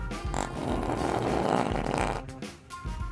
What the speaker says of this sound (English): Guy farted and they found him.